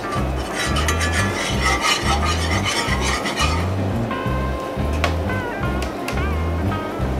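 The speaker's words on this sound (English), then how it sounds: "want to keep your flour moving in your pan" Flour being stirred and cooked in a pan for chicken and dressing gravy, a soft continuous scraping and rubbing texture that sits under steady rhythmic background music.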